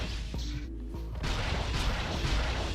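A plasma coil weapon fires in Ratchet & Clank: Going Commando, giving a sharp electric crack that is followed by a rumbling boom and a crackling, sustained burst.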